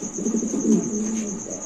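A pigeon at a bird market coos in a low, steady, throbbing call close by, with a thin high whine running constantly in the background.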